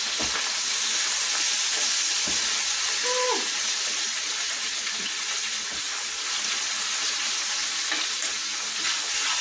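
Sliced pork and cabbage sizzle steadily in a hot pan for lo mein, a dense, even frying hiss lasting throughout with occasional stirring clinks, fairly close and no talking.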